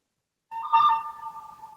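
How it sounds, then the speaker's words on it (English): Mobile phone ringtone going off during a podcast recording, a sudden bright electronic melodic tone that starts abruptly, swells briefly, then sustains at a steady pitch, fairly loud and close with no talk over it. "Is that your phone, Mike?"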